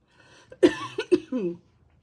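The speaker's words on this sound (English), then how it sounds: "Sorry, I've got a bit of a cough" A few short, throaty coughs in quick succession, close and fairly loud, with brief breaths between them.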